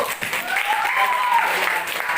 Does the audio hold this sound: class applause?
yes